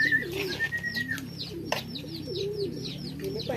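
Pigeons coo in repeated low, rolling phrases close by, alongside brief chirps, a whistled note and a sharp knock, with no one speaking.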